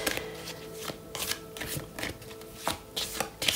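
Tarot cards being shuffled, handled and laid out one by one on a table, a run of soft papery riffles and light taps close by, with no talking.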